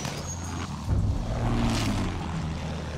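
Fighter plane in the Battlefield 1 video game, a propeller engine drone that swells as the aircraft passes by mid-distance, with a low rumbling tone rising and holding amid battlefield ambience.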